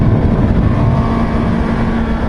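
Honda CB650R motorcycle engine held at high revs, a dense, buzzy, continuous drone heard loud and close throughout, with no talking.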